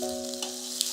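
Grated ginger sizzling with onions in hot oil in a pan, a steady close hiss with a faint hum and a couple of tiny pops, no talking.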